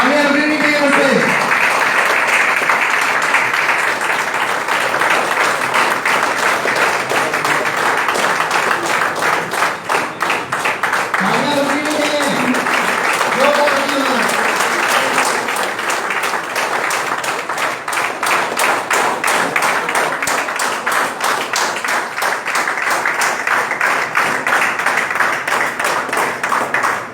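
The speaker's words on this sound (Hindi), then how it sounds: "तालियां बजनी चाहिए मुझसे।" An audience at a company training program claps continuously and loudly for the whole stretch, with someone speaking over the applause several times.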